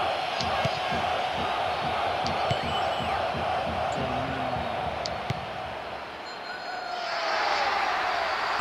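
Stadium crowd in the PES football video game, a continuous distant roar of massed voices with swelling chants, steady under faint background sounds.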